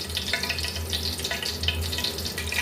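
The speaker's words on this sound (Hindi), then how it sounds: "अब इसमें हम साबुत काली मिर्च और जीरा डाल लेंगे और इसको हमने हल्का सा फ्राई कर लेना है" Whole black pepper and cumin seeds fry in hot cooking oil for a ridge gourd and moong dal curry, giving a steady, close crackling sizzle that runs without a break and without any voices.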